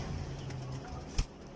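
Desi pigeons give a low, soft cooing at the start, then fall quieter. A sharp click comes shortly before the end, and faint background noise persists throughout.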